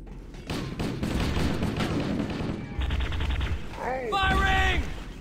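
Video game gunfire from an 8-bit gun in Cursed Halo, with dense bursts of shots and chiptune-like bleeping tones near the end, heard under a man's speech.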